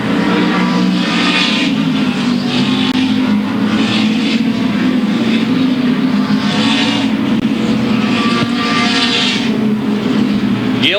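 Late model race cars roar around Louisville Motor Speedway in a 1997 race, a loud continuous engine drone with rising and falling pitch as cars pass close by, under crowd and track ambience.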